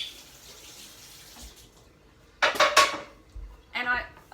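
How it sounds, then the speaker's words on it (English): A dish is rinsed under a kitchen tap, with brief bursts of running water splashing and clattering against crockery, loud and close, two main surges separated by a short pause after a quiet lead-in. "I'll just quickly rinse it."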